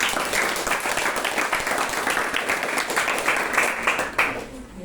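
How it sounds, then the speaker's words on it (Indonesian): A class applauds a group presentation with sustained, fairly dense clapping from many hands, steady throughout and fading slightly near the end, with a little voice mixed in. "kita berikan aplaus dulu untuk kelompok"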